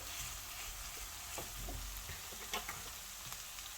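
Chicken keema mince cooking in a covered pan, a faint steady sizzle with occasional soft pops and crackles.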